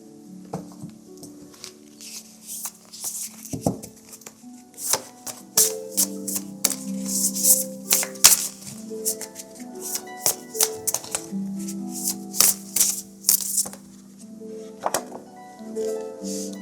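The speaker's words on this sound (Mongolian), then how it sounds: "Япон бүтээгчийн зохиолчийн Moon Cards гэдэг ийм зөөлөн картыг дэлгэх гэж байна" Soft, flexible Japanese Moon Cards oracle cards are spread out by hand. Light taps, slides and papery clicks come close and irregular over a faint tonal background.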